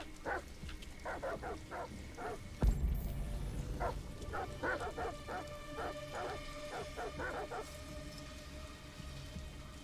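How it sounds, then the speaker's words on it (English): Dogs barking in the video game Detroit: Become Human, a series of repeated barks and yips over a steady rain-like background, with a thud partway through. "Who let that dog out?"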